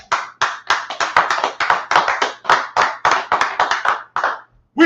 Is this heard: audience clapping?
yes